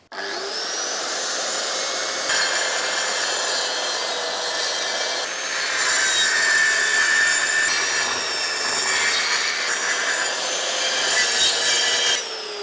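A track saw cuts through tongue and groove real wood flooring with a loud, steady, close motor whine and cutting roar lasting the whole stretch, with slight shifts in pitch.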